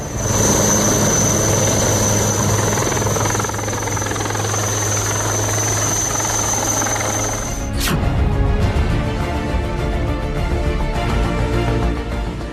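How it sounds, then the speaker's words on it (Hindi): An army rescue helicopter flies over flooded areas, with a loud, steady rotor and engine drone that runs continuously and then shifts abruptly near the end, leaving a rougher, broader roar. "बाढ़ में फंसे लोगों को सुरक्षित बचाने के लिए सेना के हेलीकॉप्टर को बुलाया गया।"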